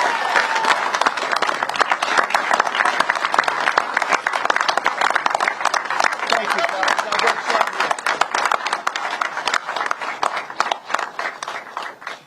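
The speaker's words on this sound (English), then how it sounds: "give these people a big round of applause" A crowd applauds and cheers steadily at a political rally in Grand Rapids, Michigan: dense, loud clapping with shouts mixed in, fading slightly near the end.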